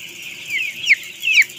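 Chickens around eleven days old on a farm in Donomulyo, South Malang, cluck after heavy rain, a few short nearby calls rising over quiet background.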